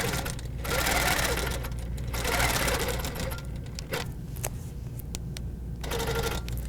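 A sewing machine runs steadily while quilting hexagon shapes with a 1 1/2 inch hexagon ruler, its fast motor hum and needle rattle continuing with brief pauses and restarts, close and loud with no talking.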